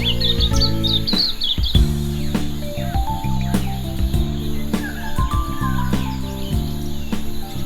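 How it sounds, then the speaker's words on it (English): Silvereye, a tiny passerine songbird, giving quick, thin, high chirps in the opening second, set against a louder steady musical backdrop that carries on throughout. "The Silvereyes is a small omnivorous passerine bird of 10 centimeters in length and barely 10 grams in weight"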